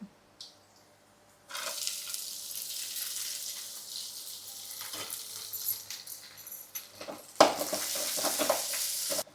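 Onions and curry leaves drop into hot oil in a pan and start sizzling, a broad steady hiss with stirring scrapes, then it swells louder near the end.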